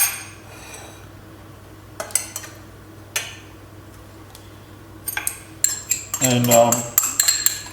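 Caster sugar and wine vinegar are stirred together in a small pot, with metal spoon scrapes and clinks against the pan at scattered moments and a busier burst of clatter near the end, close and fairly quiet.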